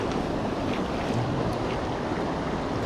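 River water rushing after a dam release during trout fishing, a loud steady roar of churning water with wind buffeting the microphone, constant and close with no pauses.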